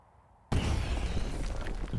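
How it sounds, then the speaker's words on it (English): A sudden explosion bursts out of near silence in Age of Wonders 4 battle play, a loud blast followed by a sustained rumbling, crackling roar that fills the rest of the moment. "Big explosion there."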